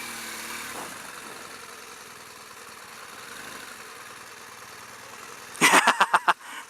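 A BMW R1200GS motorcycle engine idles steadily, a low continuous hum, before a burst of loud sharp clicks and pops near the end as it is shut off.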